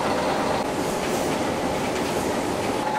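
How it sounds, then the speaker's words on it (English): A high-speed 3-ply face mask production machine runs in a steady, loud mechanical rush with fast rhythmic clatter, continuous and alone throughout. "This is a real high-speed 3-ply mask machine, and the speed is actually 5 times more than a regular 3-ply mask machine"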